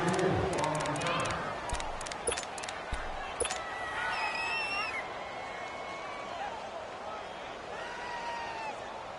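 Crowd noise from an NFL football video game on PS4, Atlanta Falcons versus New Orleans Saints, forms a steady roar with scattered cheers, whistles and sharp claps under a commentator's voice.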